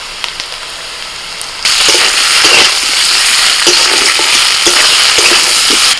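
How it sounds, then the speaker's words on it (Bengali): Onion and potato fry in hot oil, then a ginger, garlic and green chili paste goes in, bursting into a loud, continuous sizzle with stirring scrapes, close and without talk. "পেঁয়াজ আর আলুটা একটু ভেজে নিয়ে এবার দিয়ে দিচ্ছি আদা রসুন কাঁচা লঙ্কা বাটা"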